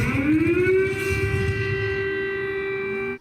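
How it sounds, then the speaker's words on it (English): A wailing siren is played outside the Russian embassy in Poland, its pitch rising and then holding a loud sustained tone with a rumbling background, cutting off abruptly at the end. "Ukrainians living in Poland woke up Russian embassy staff with the sound of sirens"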